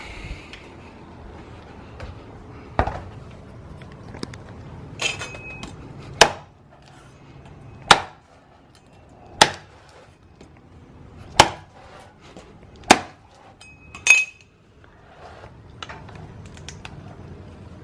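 Fresh coconuts are hacked open with a knife outdoors, about eight sharp, separate chops landing a second or two apart, each a crisp woody crack against a quiet background.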